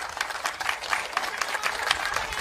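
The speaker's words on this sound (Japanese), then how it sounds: "改めて大きな拍手をお願いいたします" An outdoor crowd at a Japan Innovation Party street election rally in October 2024 gives a brief, steady round of applause, with dense clapping throughout.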